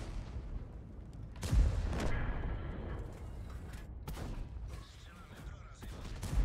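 Tank cannon shots in a video game, a few sharp booming bursts among rumbling battle noise, with players talking over it.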